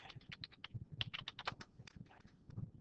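Quick, irregular typing on a computer keyboard, with crisp individual key taps heard close and fairly quiet, with no voices.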